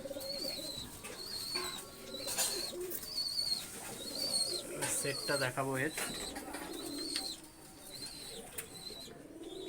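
Several pigeons, biscuit-coloured high-flying birds, coo repeatedly close by in soft rhythmic phrases, mixed with a little wing flapping, while someone talks over them.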